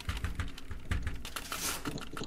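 A computer keyboard struck hard and fast, a close run of loud clacking keystrokes with heavy thumps in quick irregular rhythm, alone without talk.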